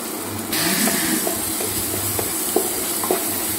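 Spice masala with Kashmiri red chili powder and salt fries in oil for a chicken dinner. A steady, close sizzle starts suddenly, with a few light, regular stirring clicks and a low hum beneath, and no talking.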